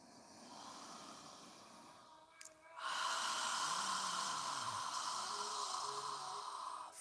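A person exhaling during a yoga session, a soft breathy rush that starts about midway and carries on steadily to the end after quieter breathing.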